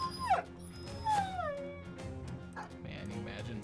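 Dogs in the Battle Brothers video game whimper and yip in high, sliding cries amid a busy game soundtrack, with a couple of pronounced whines standing out early on.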